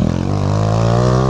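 A Honda Titan 150 motorcycle engine revs hard while the bike lifts into a wheelie, a loud, close, steady buzzing drone whose pitch climbs slightly as the throttle opens, after a few choppy pulses at the start.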